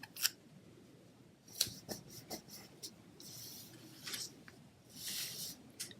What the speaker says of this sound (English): I'm going to bring in some Scotch tape.